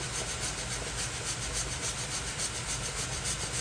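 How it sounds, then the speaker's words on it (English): Ginger being grated for Guyanese goja: a continuous close scraping rasp with a quick, even back-and-forth rhythm, fairly quiet, with no talking. "I'm going to start grate my ginger in here."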